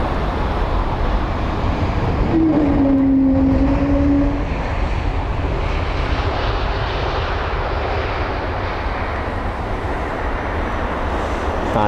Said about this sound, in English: And the Wookie from the A321neo, really nice.